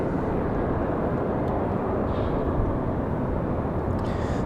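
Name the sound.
American Airlines Airbus A321 jet departing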